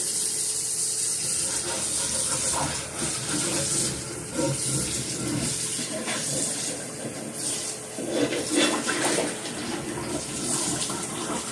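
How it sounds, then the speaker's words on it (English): A hot skillet set into water in a sink gives off a continuous hissing, sizzling wash that swells and fades over several seconds, close and fairly loud. "Yes, I did just put my skillet in the water,"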